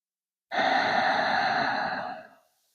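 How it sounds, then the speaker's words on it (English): A single deep, audible breath taken during a beginner yoga flow, a long close airy exhale lasting about two seconds, heard alone in a quiet room. "Just finding about 2 or 3 big, nourishing breaths here."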